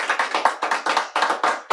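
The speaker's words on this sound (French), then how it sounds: "J'entends des applaudissements." Audience applause at an evening event, a short burst of sharp, close hand claps in a quick, slightly uneven rhythm with no talking.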